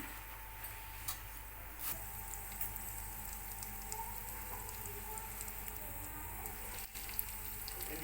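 Tempering spices sizzle in about two tablespoons of hot oil for Andhra-style peanut chutney, a faint, steady frying hiss with occasional tiny crackles, heard alone without talk.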